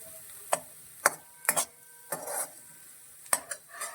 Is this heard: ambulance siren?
no